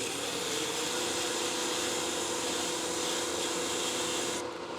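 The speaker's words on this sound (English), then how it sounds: "I'm going to lightly sand the very bottom there of that fresh surface with our 320" Steady, close rasping of 320-grit sandpaper against a salvaged wood tool handle spinning on a lathe, a continuous broadband hiss that cuts off abruptly near the end, with no talking.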